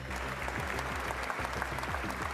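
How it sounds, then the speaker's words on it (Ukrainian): Applause greets Zelensky inside Notre-Dame Cathedral in Paris: dense, continuous clapping from a large crowd, steady and reverberant throughout. "Щемкий момент у соборі Паризької богоматері його зустрічають оплесками"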